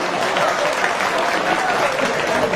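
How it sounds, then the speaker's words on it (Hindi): A large audience claps loudly and steadily, dense applause filling the room without pause for a few seconds. "एक बार जोरदार तालियां बजा दीजिए"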